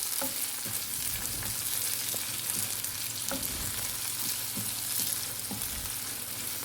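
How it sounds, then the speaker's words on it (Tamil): Onion and tomato sauté in a pan for a brinjal stir-fry, giving a continuous steady sizzle with occasional soft clicks of stirring, moderately close and with no talking. "தக்காளி சேர்த்துட்டு நல்லா வதக்கி விட்டுக்கலாம்."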